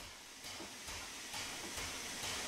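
Steam hisses from the open cylinder cocks of the Flying Scotsman locomotive in Train Sim World 4, a steady loud broadband hiss with soft regular pulses swelling every half second.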